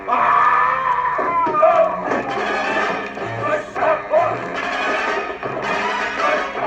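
A loud, wavering animal-like shriek repeats several times, rising and falling in pitch like a strained whinny, harsh and close.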